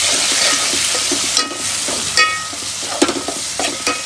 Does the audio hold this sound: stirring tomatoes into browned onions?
yes